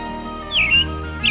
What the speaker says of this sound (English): indigo bunting, summer resident